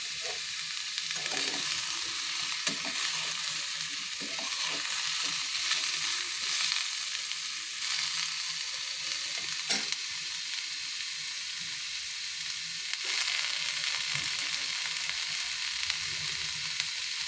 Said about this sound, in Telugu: కొంచెం సేపు వేయించి పచ్చి వాసన పోయే వరకు వేయించి